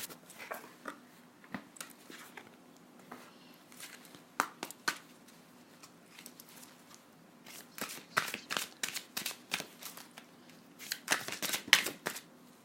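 Light tarot cards being shuffled by hand: quiet, papery riffles and slides in scattered bursts, clustering more densely toward the end, with a faint steady hum underneath.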